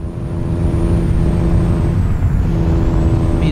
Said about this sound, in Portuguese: Aqui tem um ronco muito gostoso.